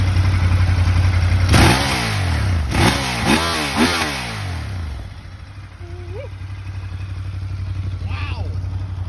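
A 2019 Ducati Monster 1200 R idles close by with a deep steady rumble, then gets three sharp throttle blips that rise and fall before settling back to idle, with a person speaking faintly near the end.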